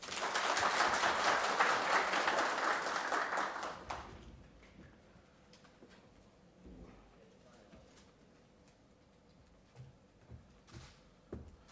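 Applause from an audience at a farmers' meeting, loud and dense for about four seconds before dying away into scattered claps and murmuring room noise.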